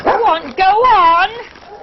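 A pack of dogs kept downstairs in a small cottage yelps and whines in close, loud, wavering bursts, with a short pause between the two main cries and quieter whimpering trailing off at the end.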